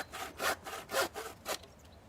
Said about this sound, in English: Cut a lintel to fit between the two posts on top of the door.